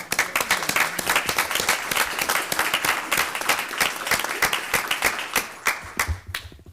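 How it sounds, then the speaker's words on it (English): Applause at a school district board meeting, loud close clapping from a modest group with distinct individual claps audible, sustained then tapering off at the end. "I think that deserves a round of applause"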